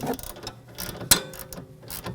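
A socket wrench with a 15mm socket ratchets in short, rapid clicking bursts while tightening a front sway bar link on a 2011–2018 Volvo S60, close and metallic with one sharp knock midway.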